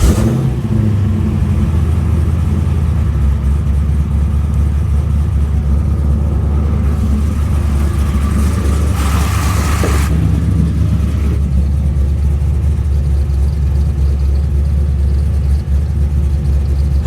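A 416ci LS stroker V8 runs steadily at a loud, close idle, with a deep, constant rumble and a short swell in intensity midway before it evens out again.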